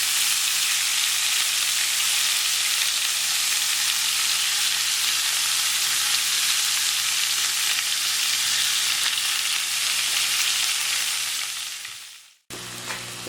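Skewered chicken malai boti fries in a pan over low heat, giving a loud, steady, close sizzle that runs unbroken and then cuts off abruptly near the end.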